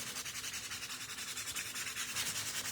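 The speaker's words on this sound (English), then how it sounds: "first I'm gonna take my 220 grit sandpaper and just give it a little sand" Close, steady sanding of birch plywood with 220 grit sandpaper, a continuous soft rubbing hiss with quick back-and-forth strokes that keep an even rhythm.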